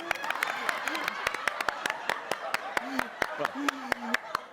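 Sharp, evenly spaced hand claps ring out through the whole stretch from a single pair of hands, steady and fairly close, while a voice talks over them.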